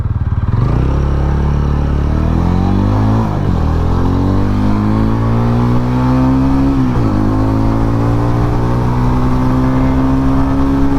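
TVS Ronin cruiser motorcycle pulling hard from a standstill, its loud engine rising in pitch through two gear changes in a sustained close run.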